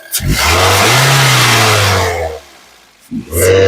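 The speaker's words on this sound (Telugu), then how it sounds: "ఇంజన్ యొక్క నాయిస్ కూడా చాలా అంటే చాలా స్మూత్ గా అయితే ఉంది" A 2011 Toyota Corolla Altis G engine revs up hard and holds high, a steady strong drone that falls away, followed by a brief pause and a second rev starting near the end.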